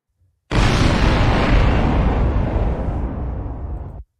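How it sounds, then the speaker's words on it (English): Explosion sound effect: a sudden loud boom bursting in at once, then a broad rumbling roar that sustains and slowly fades before cutting off abruptly, heard alone. "explosion."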